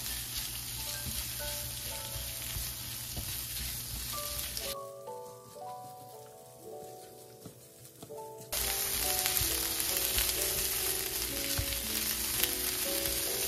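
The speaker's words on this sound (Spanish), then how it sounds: "Y ahora los voy a cocinar aquí por 3 minutos." Potatoes and shrimp with salsa macha sizzling and frying in a pan, a loud steady crackle close by, briefly dropping quieter midway before returning stronger.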